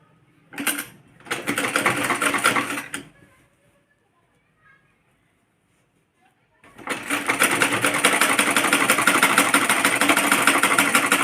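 A sewing machine stitches a kurti in bursts: two short runs, a pause of near silence, then a long steady stretch of rapid mechanical whirring and needle chatter.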